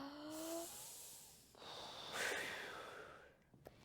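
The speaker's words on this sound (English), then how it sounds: "let's breathe" A group breathing in and out together during a prayer, giving a soft, airy rush of breath that swells and fades twice over a few seconds, with a faint tone early on.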